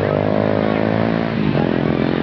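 Habal habal motorcycles racing in the Philippines produce a loud, steady, close engine drone with rich harmonics that rises slightly in pitch late in the run, with possible voices mixed in.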